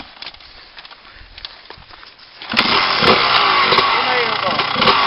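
A motorcycle engine roars suddenly as the bike climbs a slope, loud and close, holding a high rasping rev after a quieter stretch, with voices faintly in the background.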